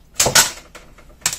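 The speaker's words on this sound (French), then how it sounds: "Je vais prendre mon massicot" A paper trimmer slices through card in a few sharp strokes, two close together and a third after a short pause, each a crisp swish-and-snap heard up close and alone.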